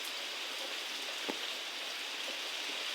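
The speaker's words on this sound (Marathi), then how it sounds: "जोरदार पावसाचं आगमन आहे" Heavy rain pours down steadily, a dense, even hiss of drops striking surfaces with no break, one or two faint knocks rising briefly above the downpour.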